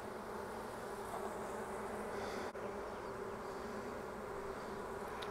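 Dense, continuous buzzing of many honeybees close by at an open hive, a steady droning hum with no talking.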